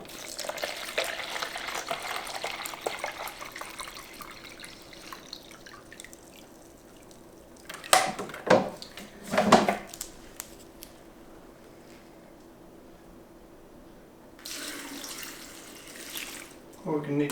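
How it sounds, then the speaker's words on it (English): Tap water runs into a container on a small pig farm, gushing in a few short bursts and a longer pour between quieter stretches, with people talking nearby. "fill that up with good water"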